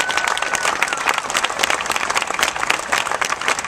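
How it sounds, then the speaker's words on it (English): A crowd claps for a supermarket team at a store grand opening in Riverside, with rapid, dense hand claps and some cheering that hold steady for nearly four seconds. "How about a round of applause for a great Stater Brothers team?"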